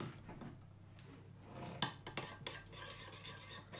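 Milk and yogurt mixture stirred with a utensil in a bowl, quiet clinks and scraping taps against the side, close and faint, with no talking.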